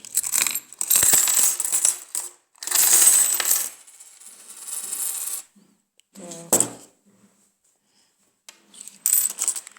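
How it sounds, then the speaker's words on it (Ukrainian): Metal coins poured out and spilling in bursts: several loud jangling cascades a few seconds apart, a single ringing clink, then a last clattering pour, close by with no talk. "Потрохи висиплю всі монети."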